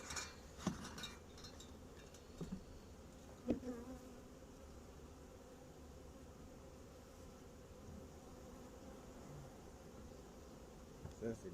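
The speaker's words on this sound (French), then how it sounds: "Ça c'est bourré d'abeilles." A hive box packed with swarming honeybees gives a steady, low, dense buzz close by throughout, with a few faint clicks and knocks from handling the equipment.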